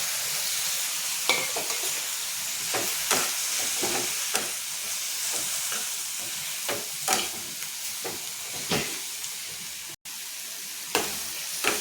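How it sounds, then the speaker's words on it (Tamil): A bunch of coriander leaves is stir-fried with softened tomato in a pan for chutney. A steady close sizzle runs under repeated scraping stirs at an irregular rhythm, with no speech. "கொத்தமல்லி சுத்தம் பண்ணி வச்சுருக்கேன், ஒரு கட்டு. அதையும் போட்டு வதக்கிக்கிறேன்."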